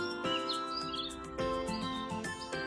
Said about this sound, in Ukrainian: але як гарно і пташки співають